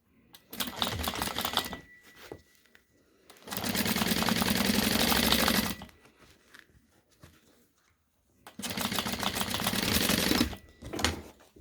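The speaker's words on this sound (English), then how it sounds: "I just do a top stitch right along the top edge." Sewing machine top-stitching along the edges of a face mask made from surgical wrap, three sustained bursts of rapid mechanical stitching separated by short pauses, close and loud, with no talk.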